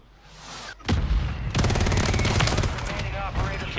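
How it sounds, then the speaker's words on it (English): A friendly mortar strike in a Call of Duty Resurgence match starts with a sharp boom, then a dense, loud stretch of rapid blasts and crackling impacts, with faint game voice audio underneath. "Friendly mortar strike."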